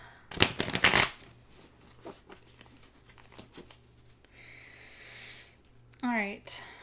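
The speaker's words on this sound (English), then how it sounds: "I feel like doing an old school shuffle" A deck of tarot cards is shuffled by hand in an old-school riffle, starting with a loud, rapid burst of crisp flutters followed by softer, scattered card taps and slides, with a voice briefly heard near the end.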